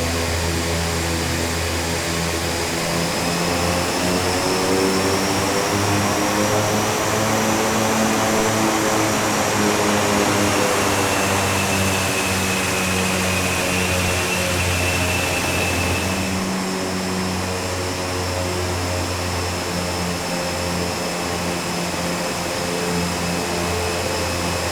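ATR 72-600 turboprop engines spool up for taxi in Microsoft Flight Simulator, a loud steady whine and droning hum with slowly shifting tones, continuous and close throughout.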